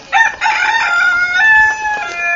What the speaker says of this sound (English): bloody chickens